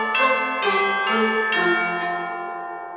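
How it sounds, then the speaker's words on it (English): Orchestral Christmas music in which tubular bells strike four bright, ringing notes in steady succession over sustained cellos and choir, the last stroke fading into a long resonant decay; loud and clear, with no talking. "cellos, and choir doing this part like this."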